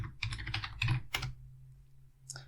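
Typing a view name into project management software on a computer keyboard, a short flurry of close, quick key clicks followed by a pause and one last keystroke.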